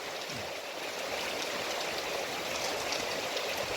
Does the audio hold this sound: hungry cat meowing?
no